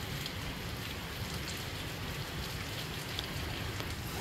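Rain falling over the sierra near Santa Ana, a continuous even hiss of steady rainfall with soft scattered drop sounds and no voices.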